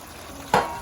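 Mixed vegetables with potato stirred in a frying pan: a quiet low hiss, then a sudden louder scrape-and-sizzle burst about halfway through that stays up to the end.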